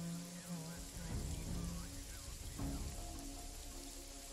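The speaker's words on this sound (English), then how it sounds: "Come on, it's raining." Steady rain patters on a surface in the video game Jagged Alliance 3 beneath a layered, droning backdrop, with a brief crackling burst midway; no voices.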